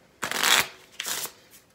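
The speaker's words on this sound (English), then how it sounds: "just giving the cards a quick shuffle" A deck of playing cards is given two quick shuffles up close: a crisp riffling burst, a brief pause, then a second shorter burst. No one speaks.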